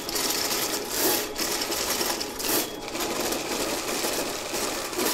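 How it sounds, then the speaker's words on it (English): A K60 sewer snaking machine runs with its cable fed into a drain pipe, giving a loud, close, continuous mechanical whirring and rattling with slight surges, and no voices. "we're now going to enter the pipe with our K60 sewer machine and see if we can't clear the pipe"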